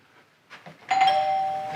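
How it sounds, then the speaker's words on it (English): A house doorbell in a foyer rings once, a clear, close electronic chime that rises sharply and then holds as a sustained tone, with faint indoor sounds just before it. "Doorbell works."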